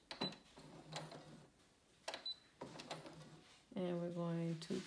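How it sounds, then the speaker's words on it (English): A sewing machine works a back stitch in short bursts of clattering needle strokes separated by pauses, then a longer louder run of whirring at the end. "now I think it's ready to sew. And it sews on its own and it keeps a straight stitch. We're going to do a back stitch."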